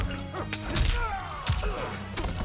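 Dynamite going off in Mortal Kombat 1 gameplay, with several heavy thuds and whooshing impacts over a couple of seconds, mixed with game music and close effects.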